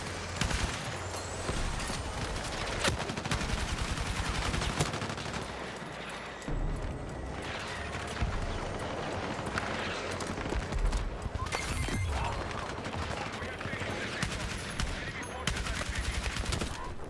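Shotgun fire in a video game: repeated loud blasts and gunfire crackle throughout a long stretch of chaotic combat, with occasional talking mixed into the din.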